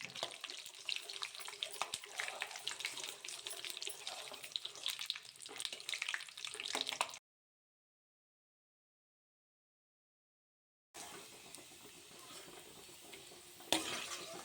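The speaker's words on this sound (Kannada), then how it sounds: "ನಾನು ಶೇಂಗಾ ಇವಾಗ ಹುರಿಯೋಕ್ಕಂತ ಎಣ್ಣೆಗೆ ಶೇಂಗಾ ಹಾಕ್ಕೊತಾ ಇದ್ದೀನಿ" Peanuts frying in oil, a soft crackling sizzle with stirring scrapes that stops abruptly in the middle, goes silent for several seconds, then resumes, with no talking.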